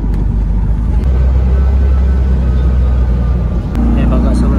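An auto-rickshaw rides along heading down to an old temple monastery, its loud, steady engine rumble and road noise running throughout beneath people talking.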